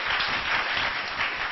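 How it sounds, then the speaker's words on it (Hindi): A studio audience at a Pakistani TV morning show claps in a dense, steady wash of applause that runs unbroken for the whole moment, with no voices over it. "बहुत ज्यादा तालियां बजाइए।"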